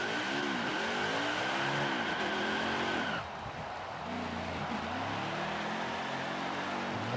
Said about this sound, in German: Da gönne ich mir sogar einen Burnout.